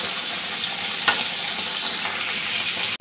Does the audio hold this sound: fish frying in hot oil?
yes